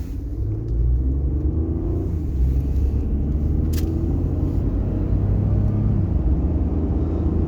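A 2012 Ford F150 EcoBoost pickup with 222,000 miles pulls away from a stop, its engine a loud, steady low rumble that holds throughout without any voices.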